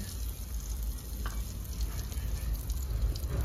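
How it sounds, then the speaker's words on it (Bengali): Butter and white cooking oil sizzle steadily in a pan, a dense, continuous crackle close by with no voices over it. "আমি বাটার দিয়ে দেবো, বাটারের সঙ্গে সাদা তেল দেবো"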